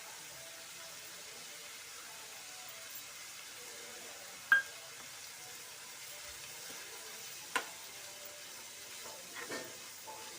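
A tempering of finely chopped green chillies and carrot fries in a pan for bun dosa, giving a faint, steady sizzle with a few sharp clinks of a utensil against the pan.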